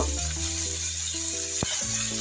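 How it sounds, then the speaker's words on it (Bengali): Something fries in a pan, giving a steady, moderate sizzling hiss throughout, with one brief knock partway through. "এটা আমি এখন ভালো করে ভেজে নিব।"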